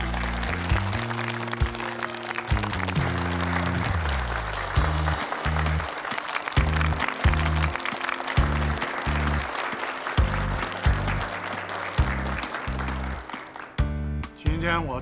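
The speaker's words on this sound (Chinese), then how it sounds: "大家掌声欢迎。" An audience at a project launch ceremony applauds in a sustained, dense burst of clapping that lasts the whole stretch. Loud background music with a steady beat plays underneath, and the clapping thins slightly near the end.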